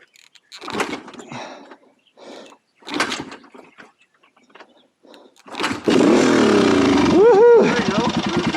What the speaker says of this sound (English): My first time kickstarting a bike like this.